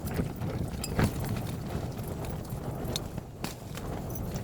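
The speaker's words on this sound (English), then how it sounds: "I'm going to have to excuse the wind noise." Gusty wind buffeting a microphone outdoors while wild camping on a fell in rain and wind, a steady low rumble with stronger gusts throughout.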